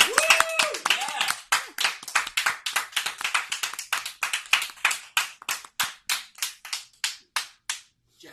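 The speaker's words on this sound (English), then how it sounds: "Let's have 10 seconds of applause for Jeff Woodall" A small group claps for a person, starting with brisk overlapping claps and a brief whoop, then thinning into slower, separate hand claps that fade out near the end.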